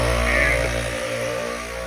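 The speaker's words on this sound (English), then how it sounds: "turn the compressor on." An ARB twin air compressor mounted on an overland rig runs steadily with a loud, close mechanical drone and motor hum, holding constant for the whole stretch with no talking.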